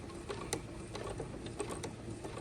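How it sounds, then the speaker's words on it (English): A sewing machine stitching slowly at turned-down speed, giving soft, irregular mechanical clicks and ticks at close range. "So I'm gonna take that pin out and I'm gonna sew very slowly."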